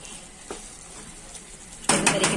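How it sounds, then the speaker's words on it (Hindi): Mixed vegetables with cabbage stalks stirred in a pan, soft spoon scrapes over a low sizzle, then a louder burst of clattering metal against the pan near the end. "इस तरीके से हम इसे मिक्स करते जाएंगे"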